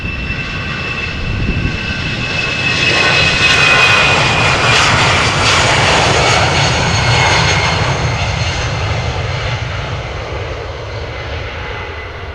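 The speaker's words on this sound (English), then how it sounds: "we are covering the departures taking place on the Polderbaan this morning" A jet airliner departs from the Polderbaan runway at Amsterdam Schiphol, its engines producing a loud, sustained roar that swells to a peak and slowly fades as it climbs away. No one speaks.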